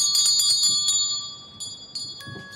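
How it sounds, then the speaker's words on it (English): A medium's handheld bell rings repeatedly at an altar during a ritual, bright clanging strokes in quick bursts followed by a lingering metallic ring and a couple of softer later strikes, heard alone. "she started ringing her bell"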